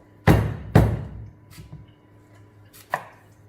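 A knife cuts through sweet potato onto a chopping board, close and loud: two heavy thuds, then a softer cut, then a final knock, with light scraping between the strokes.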